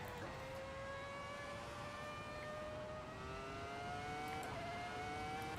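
A Formula 1 car engine in the racing game Assetto Corsa screams at high revs, a loud continuous whine that climbs steadily through the gear, with no talking.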